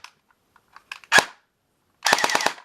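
An airsoft G36 electric gun fires a short full-auto burst near the end, a rapid rattle of about six shots, preceded by a loud single crack and a few faint clicks.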